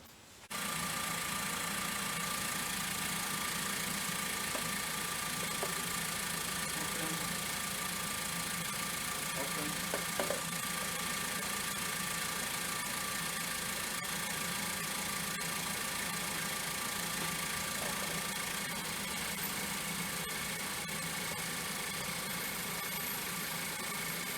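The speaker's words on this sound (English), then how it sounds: "So let's start the car." A 2015 Ford Focus engine holds a steady idle for over twenty seconds with constant mid-pitched hum and vibration, a faint clunk near the middle and no talk.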